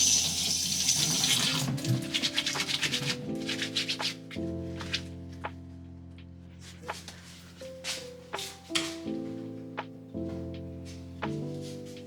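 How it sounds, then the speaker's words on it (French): White shirts being rinsed by hand under a running tap into a sink before machine washing; a steady, close splash of water with intermittent sloshing and handling noises, no talking. "je vais donc rincer les chemises là avant de mettre dans la machine"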